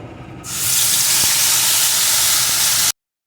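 Spice paste hits hot oil holding tempering spices for potol kalia, bursting into a sudden loud, dense sizzling hiss that holds steady for a couple of seconds before cutting off abruptly.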